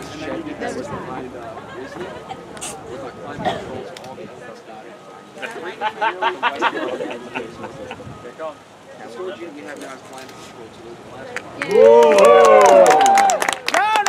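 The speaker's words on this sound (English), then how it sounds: "I know you folks aren't clapping as loud as you possibly could" A crowd at a fire eating show claps and cheers in bursts between stretches of a performer talking, with a louder swell of applause and whooping near the end.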